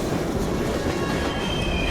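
Train in the video game Heavy Rain, a steady rumbling rail roll with faint clickety-clack and a thin wheel squeal, continuous and fairly loud throughout.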